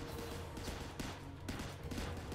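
Video game gunfire crackles in dense, continuous bursts, a steady barrage with no clear gaps, heard moderately loud with no voices over it.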